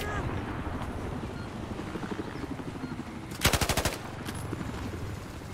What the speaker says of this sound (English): we're taking a lot of enemy fire here!